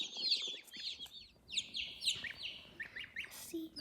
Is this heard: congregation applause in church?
no